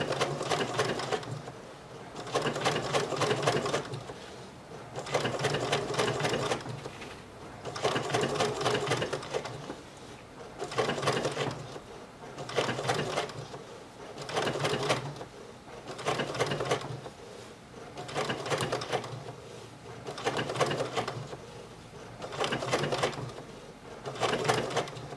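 A BERNINA 880 computerized sewing and embroidery machine stitches in repeated bursts of rapid, even needle clatter, each run lasting about a second or two with brief pauses between them, close and clear.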